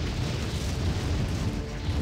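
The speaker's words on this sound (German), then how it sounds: "jetzt fangen die anderen drauf zu schießen" Gunfire and explosions from an Empire Earth battle on the hard Age of Conquest campaign, a dense continuous rumble of booms and shots, loud and steady, with no voices.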